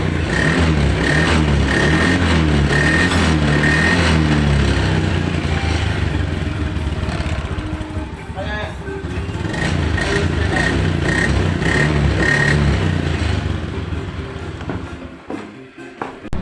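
A Honda Beat ESP scooter engine idles and revs with a loud buzzing exhaust, dipping and rising in pitch, with clattering mechanical noise and a drop-off near the end.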